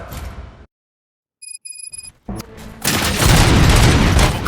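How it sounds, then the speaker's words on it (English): Gunfire in the RoboCop film bursts in after a silent gap and a few electronic beeps, then builds into a loud, dense, sustained volley of shots and blasts. "Gunshots? What's going on?"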